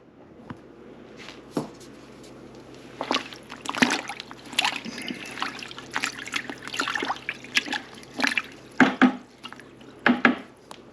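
Fabric dipped into a soda ash solution for tie-dye prep, with wet trickles, drips and splashes of liquid in an irregular series of sloshes, close and moderately loud.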